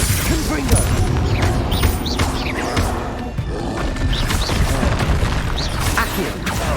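Confringo fire spell blasts in the Hogwarts Legacy video game, dense booming and crashing combat effects layered with whooshes, continuous and loud throughout, with a voice calling out spell names.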